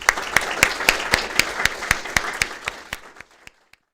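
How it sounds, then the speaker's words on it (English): Scattered audience applause for a panel of speakers at an APEC policy event: a handful of distinct, rhythmic claps from a small group, close and crisp, thinning out and stopping with a last few isolated claps. "please join me in giving a round of applause to our panelists"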